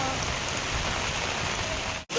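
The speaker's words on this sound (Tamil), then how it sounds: "ரொம்ப அதிக கனமழை பெய்ய ஆரம்பிச்சிச்சு" Heavy rain pours at Malampuzha dam, a dense, loud, continuous hiss of downpour that fills the whole moment before cutting off abruptly at the end.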